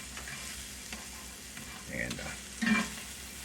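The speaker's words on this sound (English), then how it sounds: "you just stir everything around. Just heat up the chicharrones just for a minute." A chicharrones scramble frying in a pan with a little bacon fat makes a soft, steady sizzle while a utensil scrapes and stirs. The stirring grows louder toward the end, with a brief word spoken over it.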